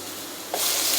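Minced garlic and chilli are stirred in a hot pan and suddenly sizzle loudly midway, then keep up a steady frying hiss, with no speech.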